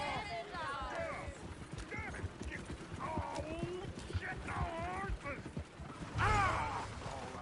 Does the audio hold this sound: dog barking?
no